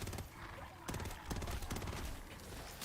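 Rapid gunfire from a weapon in Call of Duty MW3 Zombies, dense bursts of shots continuing throughout over a busy game soundscape.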